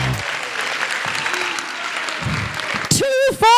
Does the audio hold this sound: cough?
no